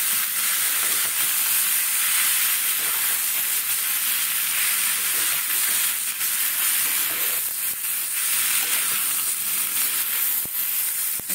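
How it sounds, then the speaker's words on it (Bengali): Potatoes frying in a pan for a potato and split-pea curry, giving a steady, loud sizzle with soft stirring scrapes throughout, no voices. "এই যে ভাজছি এইভাবে আলুটা দিয়ে দেবো, গরম আলুটা দিয়ে দেবো এর মধ্যে।"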